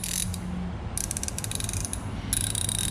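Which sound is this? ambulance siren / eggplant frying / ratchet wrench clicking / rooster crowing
ratchet wrench clicking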